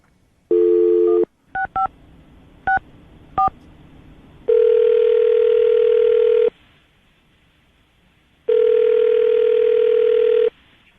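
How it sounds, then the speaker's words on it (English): Touch-tone telephone dialing on a morning radio show: a steady dial tone, then a series of short DTMF beeps, followed by longer tone bursts, loud and clear with no talking. "I'm going to dial the phone number"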